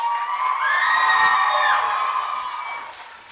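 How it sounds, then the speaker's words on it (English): Middle school assembly audience in a gym or hall cheering and whooping, a loud sustained crowd roar with high shouts that swells and then fades after a few seconds. "Let's give these fine folks one last round of applause,"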